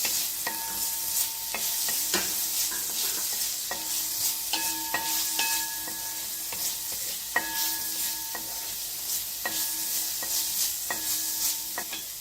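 Green chillies fry in a pan for restaurant-style dragon chicken while a spatula stirs them, making steady repeated scraping strokes over a constant close sizzle.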